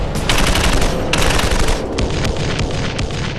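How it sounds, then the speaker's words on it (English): A DShK 50 caliber heavy machine gun firing in a battle, a loud, dense, continuous burst of heavy automatic fire with booming reports filling the whole stretch, near and overpowering. "The Dushka 50 caliber heavy machine gun unleashes its devastating power once more."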